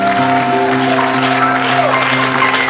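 A church congregation applauds in steady, dense clapping that fills the room, with sustained tones of music or singing running underneath throughout.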